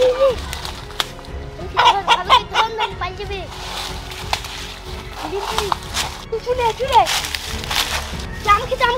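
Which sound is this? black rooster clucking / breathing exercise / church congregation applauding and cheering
black rooster clucking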